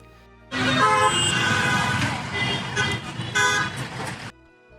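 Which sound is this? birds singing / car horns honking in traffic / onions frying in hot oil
car horns honking in traffic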